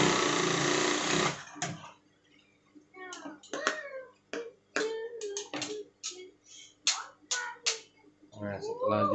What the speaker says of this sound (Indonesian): lalu kita jahit lagi ya